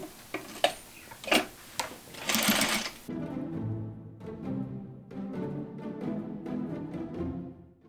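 A sewing machine stitching the sleeve of an Austrian dirndl, starting with a few separate clicks and a short burst, then running in a steady mechanical whirr broken by brief pauses, close up and without speech.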